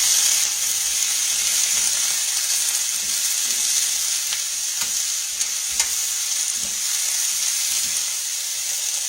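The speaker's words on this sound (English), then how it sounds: "let's stir it again" Squash and red pepper stir-fry with Everglades seasoning sizzling loudly in a hot pan, a constant dense hiss with light stirring scrapes, close and alone without talk.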